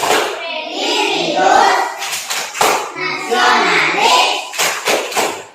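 Schoolchildren loudly chant the PPK clap in unison, with sharp rhythmic bursts of hand clapping between their spoken words, close and energetic.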